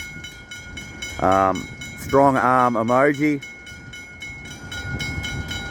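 A train passes at Dandenong, Australia, with a rumbling run and loud tonal horn-like blasts in the middle, while a person speaks nearby.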